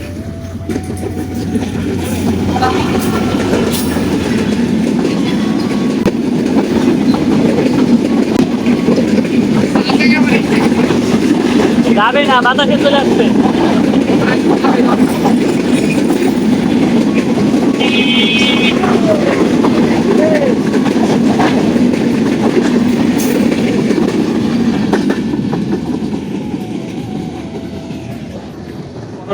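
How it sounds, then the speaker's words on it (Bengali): A train rumbles steadily past on a railway beside the road, a long continuous roar with wind buffeting the microphone, and people talk over it. "রেল রাস্তার সাইডে আমতনগর ট্রেনটা গেল"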